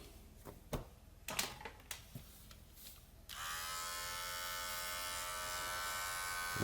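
Electric clippers buzz steadily against sheepskin leather, shaving the fleece back along a coat cuff fold; a few scattered handling knocks and taps come first, then a loud, continuous close-up motor whine holds to the end.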